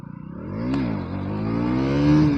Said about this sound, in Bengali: চলো একটা হুইলি টেস্ট করা যাক